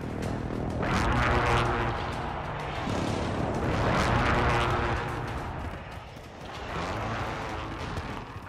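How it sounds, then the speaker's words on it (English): Precision airstrike explosions in Call of Duty Modern Warfare come as several loud, heavy, rolling blasts, one after another, that fill the clip with a dense rumble. "Be advised, friendly precision airstrike inbound."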